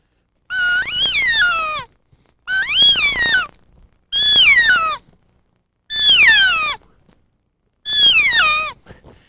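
A human voice imitates an elk alarm or alert mew, giving five separate high, nasal calls that each rise and then fall off, evenly spaced and close, with silence between them.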